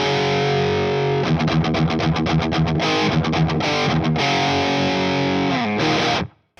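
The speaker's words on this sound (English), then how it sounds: "The basic tone just coming out of the amp, if I turn off the pedals," Crunchy, dry distorted electric guitar straight through the amp with pedals off, playing chugging palm-muted metal riffs with rapid repeated notes and sustained chords, loud and upfront before cutting off.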